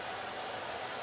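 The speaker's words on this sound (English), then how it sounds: "So even though the vacuum cleaner's on," A household vacuum cleaner runs on an inverter power supply, giving a steady, faint broadband rushing hum with no breaks.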